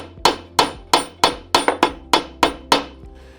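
A polished metalworking hammer strikes soft copper sheet to build up texture, ten crisp metallic taps in a steady, slightly uneven rhythm, each ringing briefly before the next.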